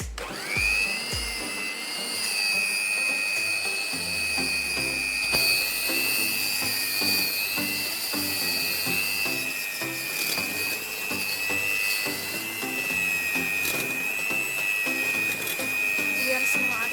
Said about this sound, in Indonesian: Boleh kita mixer sebentar ya guys.